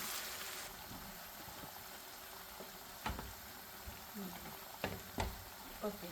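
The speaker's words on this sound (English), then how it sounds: "Now we're going to mix all this up well" Cumin seeds and fennel powder are stirred in a pot for Jaffna-style prawn rice, with a soft simmering hiss and a few distinct spoon knocks against the pot while someone talks.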